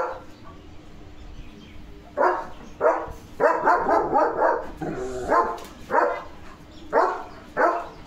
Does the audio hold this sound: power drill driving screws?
no